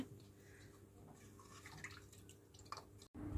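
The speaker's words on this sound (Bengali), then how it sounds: "এই যে তরকারি ধুয়ে নেওয়া হচ্ছে দেখেন আলু আর করলা কেটে ধুয়ে নেওয়া হচ্ছে" Cut potatoes and bitter gourd are rinsed in water in a village kitchen at night, giving faint, soft drips and small splashes, quiet and close, with no voices.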